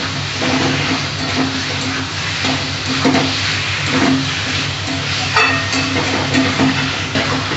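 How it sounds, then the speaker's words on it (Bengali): Fried potatoes for a Bengali yam kofta curry are stirred in a pan, giving a continuous sizzle with scraping stir strokes and a low steady hum underneath. "এবার আমি একটু কষিয়ে নেব।"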